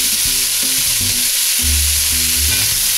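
Beef bourguignon ingredients sauté in hot fat in a pan over raised heat, giving a steady broadband sizzle throughout with low clattering stirs, while a voice speaks briefly over it.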